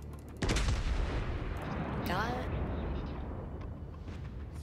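Heavy naval gunfire booms out in World of Warships, one sharp loud blast followed by a long rumbling roar, with a brief word spoken over it.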